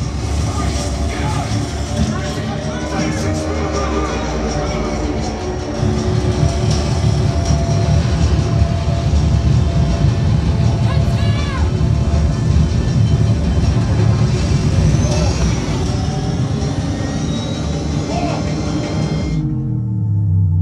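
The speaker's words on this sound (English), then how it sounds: "This sub sounds amazing." Miller and Kreisel V-75 subwoofer, left five days in the rain, pumping loud, continuous bass with dense low rumble and broadband music content throughout, ending abruptly near the end; voices talk over it.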